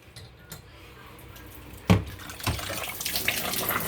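Running water pours steadily into the small tub of a Costway twin tub portable washer, a faint rushing that grows fuller after a brief splash and clatter partway through.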